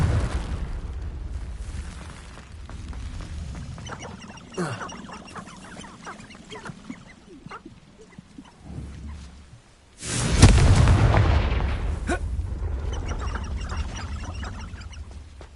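In Hogwarts Legacy, Confringo fire spells burst with a loud booming blast and fiery roar that swells and trails off, amid quieter rumbles and game effects before it.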